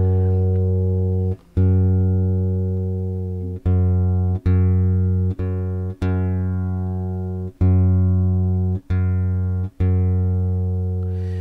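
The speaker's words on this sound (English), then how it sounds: "I'm tuning this guitar one whole tone lower" Electric guitar string plucked repeatedly while being tuned down a whole step to D through a Zoom A1X Four multi-effects pedal, with about ten clear, sustained notes, each ringing and decaying before the next pluck, alone and fairly close.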